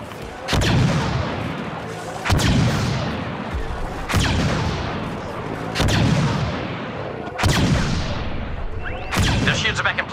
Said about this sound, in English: Firing on transport.